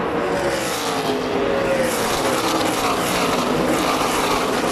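NASCAR stock cars race side by side at California, their engines a loud, continuous roar that fills the whole stretch without a break.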